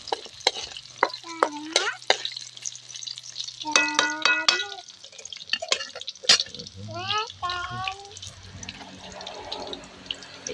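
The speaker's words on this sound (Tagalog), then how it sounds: "igisa natin mabuti" Native chicken sautéing in a pan for tinola gives a steady sizzle with repeated stirring scrapes and clinks, while voices talk over it at intervals.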